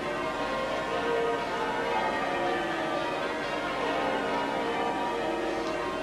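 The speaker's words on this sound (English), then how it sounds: "The bells ringing across the rooftops of the City of London." Church bells ringing across the rooftops of the City of London during a wedding procession, a steady continuous peal heard at a distance with a constant wash of crowd and street ambience.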